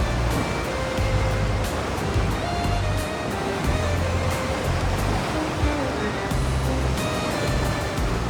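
Sea waves wash against the rocky Montenegro coast near a blue cave in a continuous, roaring surge, with people talking over the water.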